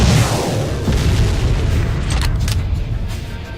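A recoilless anti-tank weapon fires in the Arma 2 video game, a single loud booming blast with a long rumbling tail that fades slowly over several seconds.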